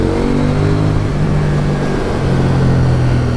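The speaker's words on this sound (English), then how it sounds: "Oh, listen to that exhaust. Standard, and it sounds that good." A KTM 790 Duke motorcycle runs on its stock exhaust, a loud, continuous engine drone with a strong low rumble and steady harmonics as it pulls along a road.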